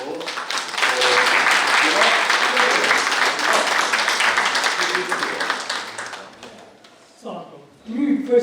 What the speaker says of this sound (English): please give a big hand of applause for